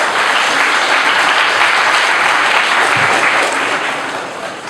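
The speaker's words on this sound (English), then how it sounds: "to give applause and welcome to Dr. Nagaraj A, the Faculty Advisor of" Sustained audience applause at a World Water Day college event at SSE Mukka, Mangaluru, loud and steady for several seconds before tapering slightly at the end.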